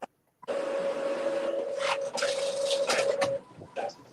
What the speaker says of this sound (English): What the hell's that? My printer, sorry.